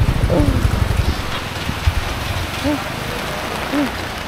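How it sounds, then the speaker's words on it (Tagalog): Steady rain hissing and pattering across a wide area in Bohol, Philippines, with faint voices and a few soft tonal sounds in the background. "Umuulan ngayon."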